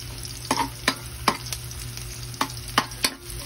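Garlic fries in a pan for chaw fan, a low sizzle punctuated by repeated sharp scraping strokes of a spatula or ladle against the pan at an uneven rhythm, close by.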